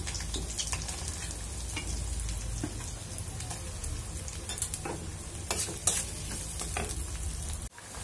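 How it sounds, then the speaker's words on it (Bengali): Onions sizzle steadily in hot oil in a pan for a small-fish curry with tomato, with occasional scraping stir strokes, heard close and continuous without speech. "পেঁয়াজ দিয়ে দিলাম।"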